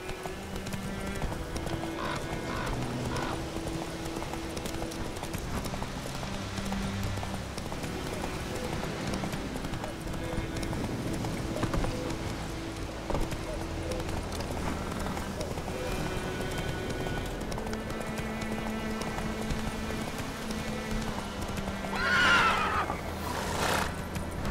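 Roach, a horse in The Witcher 3, gallops with rhythmic clip-clop hoofbeats under continuous game music, and a loud whinny rings out near the end.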